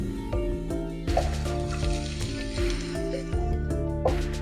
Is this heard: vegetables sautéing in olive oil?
yes